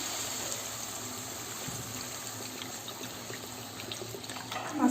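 Water poured into a cooking pan holding tomatoes, a faint steady trickling stream running for several seconds with a slight splash at the end.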